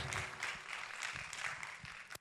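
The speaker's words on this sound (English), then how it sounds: "another hand of applause for Abigail Ziame." Broadband clapping from a crowd at a national NGO forum in Ghana, steady and sustained for a couple of seconds before trailing off abruptly at the end.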